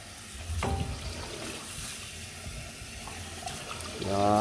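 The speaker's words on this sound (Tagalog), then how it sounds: "babanlawan mo lang siya ng tubig" Tap water runs steadily as soaked ingredients for homemade taho are rinsed in a kitchen. The flow is close and continuous, getting louder toward the end.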